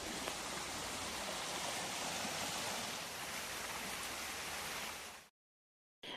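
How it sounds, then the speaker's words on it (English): Sherman Falls, a cascade in a forest enclave, gives a steady, full rushing roar of falling water with no breaks, cutting off abruptly near the end. "My favorite is Sherman Falls, a gorgeous cascade in a forest enclave."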